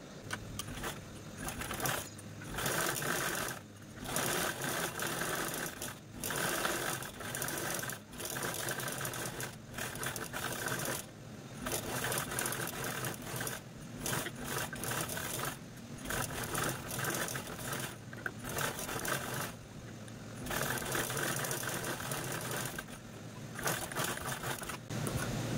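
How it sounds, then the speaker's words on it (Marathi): A sewing machine stitches fabric for a travel neck pillow in bursts of rapid mechanical whirring, broken by brief pauses when the needle stops. It runs close and steady for most of the stretch, and nobody speaks. "तर चला आता आपण शिलाई मशीनवर याची स्टिचिंग करूया।"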